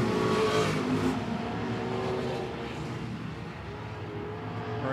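Sprint cars race around the low line of the I-76 Speedway oval, a loud continuous engine roar that swells and fades slightly as the pack passes, with no talk.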